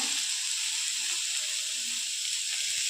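Onion frying in oil on a hot griddle gives a continuous, loud, even sizzle, close up, with a few soft scrapes beneath.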